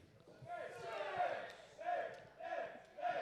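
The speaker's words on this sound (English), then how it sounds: "And the crowd trying to get behind the hometown hero, Chris Bey." A wrestling crowd roars in rising and falling waves for the hometown hero Chris Bey, a chanting swell that repeats about three times, heard from a distance.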